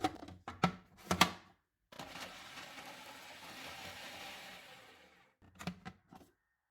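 A small electric food chopper whirs for about three and a half seconds while chopping a small onion, a green chili, coriander and mint. Its steady buzz is framed by brief clattering handling knocks before and after, with no talking.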